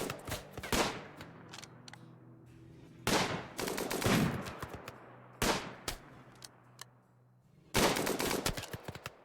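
Gunfire from the RimWorld video game: loud bursts of rapid shots arrive in four volleys spaced a few seconds apart, each with a sharp attack and a fading tail, and no talk over them.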